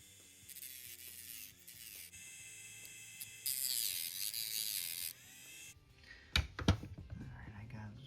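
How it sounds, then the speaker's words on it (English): A Dremel rotary tool whines steadily as it cuts a notch into the underside of a 1:64 scale die-cast 1969 Dodge Charger, with the pitch shifting in the middle. The tool then stops and light clattering handling noises follow. "I'm going to take the Dremel tool and make a little notch"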